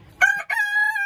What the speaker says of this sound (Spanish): las gallinas le van a estar picando ahí